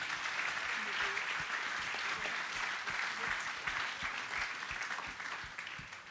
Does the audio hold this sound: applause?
yes